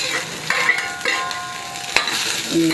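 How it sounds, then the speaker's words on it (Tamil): Onion, green chili, tamarind and garlic stirred in a little oil in a pan for a small-onion chutney, giving a steady soft sizzle with a few scraping stirs and a sharp clink, close and alone. "இதில் வெங்காயம் பச்சை மிளகா புளி பூண்டு எல்லாத்தையும் வதக்கணும்"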